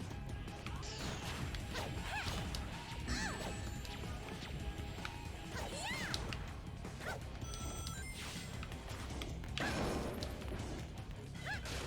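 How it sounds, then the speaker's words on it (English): In the Sonic World DX fan game, a hammer smashes through cages with sharp crashing hits over busy game music and effects, several impacts landing across the stretch. "She just smashed through cages."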